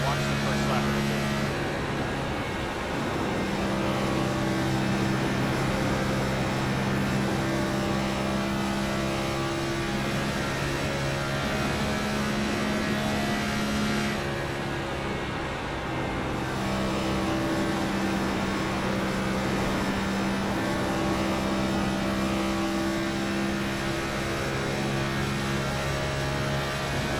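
A NASCAR Next Gen race car runs a lap at Kansas in the iRacing simulator, its engine a loud, steady high drone with gear-like pitch shifts, mixed with rushing track noise throughout.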